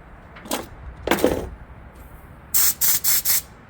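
A can of spray adhesive bond, used while fitting car audio gear, lets out four short, sharp hissing bursts in quick succession after a few soft handling clunks.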